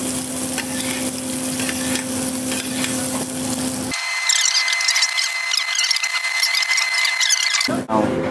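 Scallops frying in butter in a pan, a close sizzle and spatter that grows brighter and busier midway, with squeaky scraping, ending in a brief clatter.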